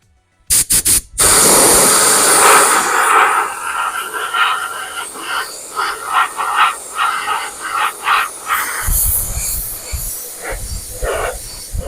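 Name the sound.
spray painting a coat of yellow paint on an RC car body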